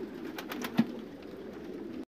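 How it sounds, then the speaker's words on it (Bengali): Pigeons in a large pigeon farm, sitting on their eggs, coo in a low, continuous murmur with a few soft flutters. One brief louder note stands out before the sound cuts off. "তো দেখুন সুন্দরভাবে কবুতরগুলো বসে আছে"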